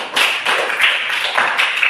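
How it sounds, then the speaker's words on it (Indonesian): A classroom of students claps together in a short loud burst of applause, quick close slaps in an uneven rhythm lasting about two seconds, with no voices. "Untuk itu tepuk tangan untuk kita semua."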